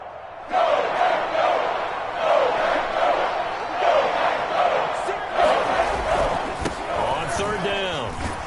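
A stadium crowd in a PS4 football video game roars in sustained swells under a play-by-play commentator's voice, broad and loud from start to finish.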